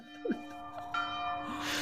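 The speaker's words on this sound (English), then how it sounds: "is the bell ready, Peter?" A church-style bell rings once as a sound effect on a radio show, a clear struck tone that sustains and decays over a couple of seconds, with brief breathy vocal noises at the start.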